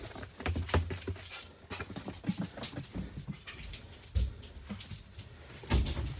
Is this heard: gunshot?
no